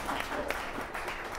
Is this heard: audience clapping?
yes